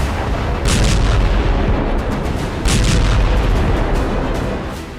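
Cluster bomb explosions in the Russia-Ukraine war, heard as a loud, dense rumble of overlapping blasts and booms with two sharper bursts, continuous and heavy throughout with no talk.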